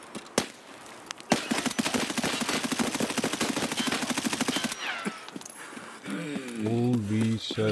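A rapid burst of automatic gunfire from the video game Escape From Tarkov, preceded by a few single shots, sounds loud and close. Someone speaks once the firing stops.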